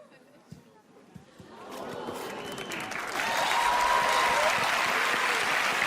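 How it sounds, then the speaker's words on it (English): A theater audience at a magic show breaks into applause after a card trick, starting with scattered claps and swelling into loud, sustained clapping and cheering that fills the room, with some voices mixed in. "I cannot accept that much applause for a subpar memory demonstration"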